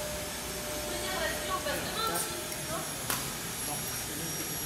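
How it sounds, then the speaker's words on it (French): A vacuum cleaner runs steadily through preparations for a neighbourhood party, a continuous broadband whooshing roar with faint voices and clatter in the background. "Et aspirateur évidemment"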